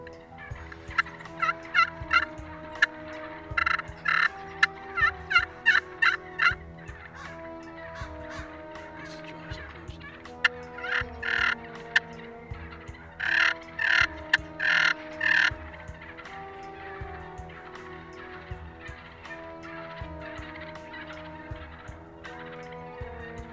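Wild turkeys gobble outdoors in repeated bursts, several rattling calls rising and fading at moderate distance over a constant low background hum.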